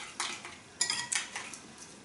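Spoon stirring orange juice into oat flakes in a bowl for vegan Bircher muesli, a few soft clinks and scrapes against the bowl, quiet and close.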